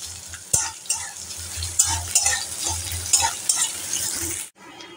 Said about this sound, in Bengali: এদিকে আমাদের লো ফ্লেম করে পেঁয়াজটা ভাজা ভাজা করছি।